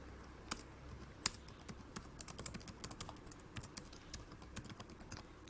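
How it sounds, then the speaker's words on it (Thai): Fingers typing a name on a computer keyboard, quick irregular clicking keystrokes, close and fairly soft, with occasional louder taps over a faint steady background hiss. "แล้วก็พิมพ์ชื่อจริงเราลงไป"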